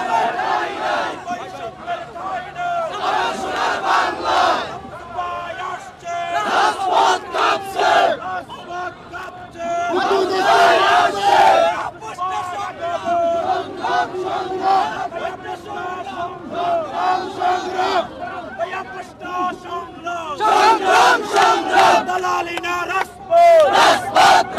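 A large crowd in Chandpur chants slogans around the arrival of adviser Mahfuz Alam, loud rhythmic shouted bursts rising and falling in waves with brief lulls between them.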